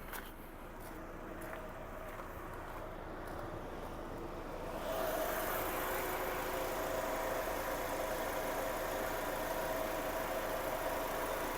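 A 2006 Audi A4 B7 1.6 MPI engine idles steadily with a low, even hum. The rumble gets slightly louder partway through and then holds constant, with no talking.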